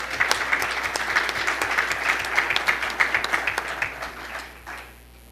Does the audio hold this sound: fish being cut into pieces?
no